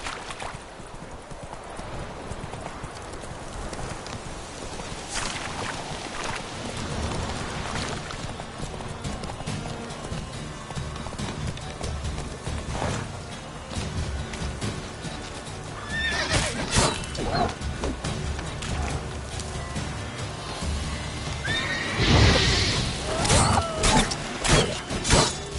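Roach, a horse in a Witcher video game, gallops with steady hoofbeats and lets out loud neighs and whinnies, with game ambience underneath and the whinnies peaking near the end.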